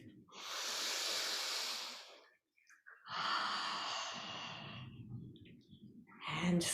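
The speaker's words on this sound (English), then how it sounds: "Another full cycle of breath." Slow, full breaths during a yoga practice: a long airy inhale, a brief pause, then a long exhale, close and steady, with a soft rustle of movement at the end.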